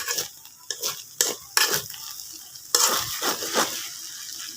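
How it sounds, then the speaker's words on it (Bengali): Spiced noodles stirred and tossed in a frying pan, with scraping utensil strokes in irregular bursts over a light sizzle, close and fairly loud, no talking. "এখন আবার নেড়ে চেড়ে নেব।"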